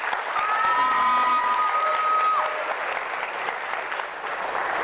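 Audience applause at a school awards event, honoring student volunteers who run cameras at sports broadcasts; steady, dense clapping fills the room for about two and a half seconds, then thins to lighter scattered claps.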